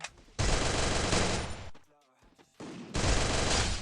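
Loud sustained bursts of automatic gunfire from the Free Fire battle royale video game, two long volleys split by a short quiet gap, with no talk over them.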